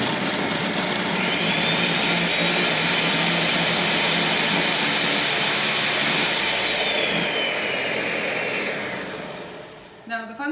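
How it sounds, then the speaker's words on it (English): A blender whirs loudly and continuously while blending a green smoothie, its motor whine steady and close for about nine seconds before winding down and cutting off. "So once that's all in here, we're gonna blend this up."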